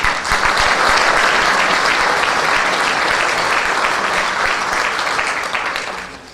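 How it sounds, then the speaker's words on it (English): Audience applause at a city band's 60th anniversary concert, a dense, loud, sustained wash of many hands clapping that holds steady for several seconds before tapering off at the end. "Give her an extra round of applause."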